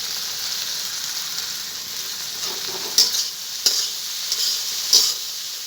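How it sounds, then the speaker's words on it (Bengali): Fried potatoes and okra sizzle in hot masala, a constant hiss broken by several sharp scraping stirs of a spoon against the pan, close and fairly quiet. "এখন আমি ভেজে রাখা আলু আর ভিন্ডি দিয়ে দেবো।"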